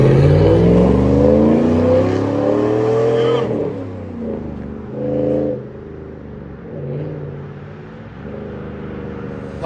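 A 2009 Chevy Silverado truck engine revs up hard and close, then drops to a lower idle with a couple of short blips of the throttle, with no talking.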